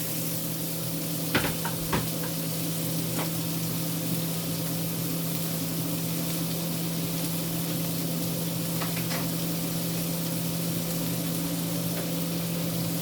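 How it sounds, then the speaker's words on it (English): Garlic and a small onion sautéing in butter make a steady low sizzle with a constant hum, and a couple of faint stirring taps early on. "We're going to saute our garlic, our 2 cloves of garlic. We're going to saute our 1 onion, 1 small onion."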